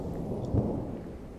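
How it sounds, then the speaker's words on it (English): A single low thunder rumble swells briefly and fades under a soft steady background hiss, moderately quiet and with no voices. "Thunder strikes."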